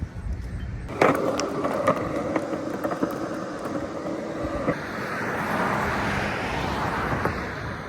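Skateboard wheels rolling along a rough city sidewalk on a street between Philadelphia and Newark, Delaware, with a steady gritty roar, several clacks and bumps over cracks, then a smoother rumble as traffic and wind noise rise behind it.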